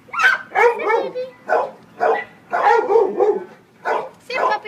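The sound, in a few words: dog barking at shelter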